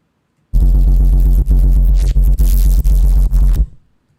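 A loud, buzzy synthesizer tone sustains for about three seconds with a throbbing pulse and a few brief dropouts, then fades into silence.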